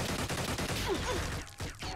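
Gunfire aimed at a soldier in Xenonauts, a dense burst of rapid shots rattling almost continuously, then briefly breaking off before one more short volley.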